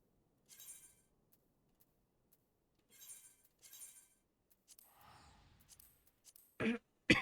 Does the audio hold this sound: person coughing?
yes